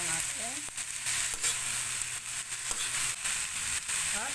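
String beans sizzle and crackle as they fry in a pan for ginisang sitaw, with a spatula scraping and stirring through them in several clear strokes over a steady, close, bright frying hiss; no one speaks.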